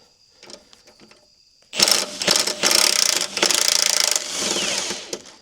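A ratchet works the 5/8 bolts holding the axle to the front subframe of a 1967 Volvo 1800S suspension: a few quiet clicks, then loud rapid ratcheting bursts with short pauses, close by.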